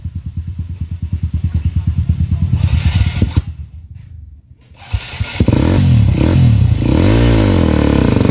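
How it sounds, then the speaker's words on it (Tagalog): Enduro motorcycle on a hard mountain trail at Mt. Paldingan, its engine revving in rapid pulsing bursts, dropping briefly, then surging loud again with clattering and scraping over rough ground. "Parang nawawala yung gapang ng motor sir."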